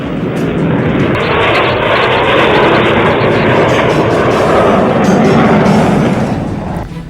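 Aircraft fly over the 88th Indian Air Force Day display in 2020, which includes vintage planes, producing a loud, steady, close engine roar that holds for several seconds.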